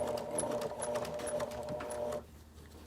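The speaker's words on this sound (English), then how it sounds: "So just go ahead and sew." Close, steady rapid stitching of a sewing machine running through a fabric face mask for about two seconds, its needle pulsing in quick rhythm before stopping abruptly.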